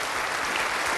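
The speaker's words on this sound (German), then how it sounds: "Vorhänge haben wir nicht, aber das ist ihr Applaus." A studio audience at a 1981 German TV variety show claps steadily in a dense, even wash of applause with no break, heard on its own.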